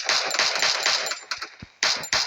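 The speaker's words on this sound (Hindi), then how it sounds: "शॉट गन से मार रहा है भाई, शॉट गन।" Rapid gunfire in a battle royale mobile shooter, reported as shotgun blasts, comes as dense bursts of sharp shots for most of the stretch, pauses briefly, then returns loud at the end.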